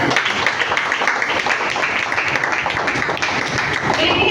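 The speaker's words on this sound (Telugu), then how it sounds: "మనందరి కోసం ఒకసారి బిగ్ క్లాప్." Audience applause fills a business meeting hall with dense, steady clapping from many hands, mixed with crowd voices throughout.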